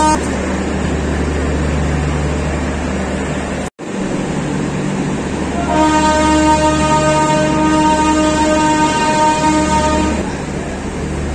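A Garib Rath Express passenger train rumbles steadily along the rails, loud and close, with a brief cutout partway through and a sustained horn-like tone sounding for several seconds in the middle.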